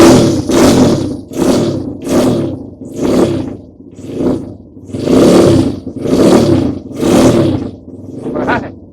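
A Honda CRF 100 dirt bike engine that had flooded revs hard, around ten loud rising and falling bursts in a steady rhythm, close to the microphone and with no voices over it.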